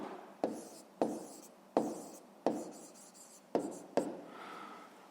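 Pen strokes scratch across paper as arithmetic is worked out for a fifth-grade maths exercise, six or seven sharp writing bursts, each fading quickly, close and clear with no voice.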